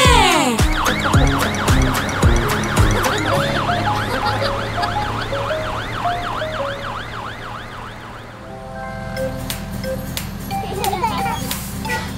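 A cartoon fire-engine siren wails in a fast, repeating rise-and-fall, loud and upfront for several seconds, then gives way to lively children's cartoon sounds and bright effects.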